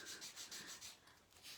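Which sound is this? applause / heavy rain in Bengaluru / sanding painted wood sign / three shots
sanding painted wood sign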